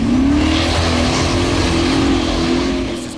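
A Formula Offroad race car at an Akureyri event in Iceland revs hard and close, its engine note rising steadily in one sustained loud pull.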